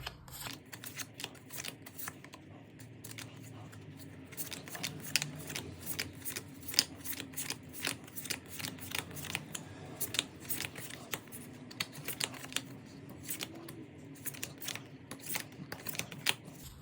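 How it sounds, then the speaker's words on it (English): Tarot cards counted off by hand one at a time, a steady run of crisp, close card snaps and flicks continuing throughout with no talk. "I'm going to go ahead and count these cards"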